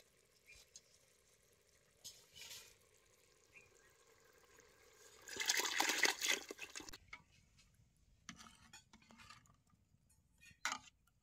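Water is poured into a simmering desi chicken curry over a wood-fired stove, a loud rushing splash of a few seconds followed by quieter pot and utensil clinks.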